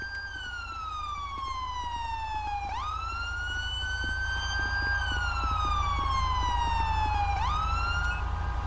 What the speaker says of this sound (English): Turn my siren off.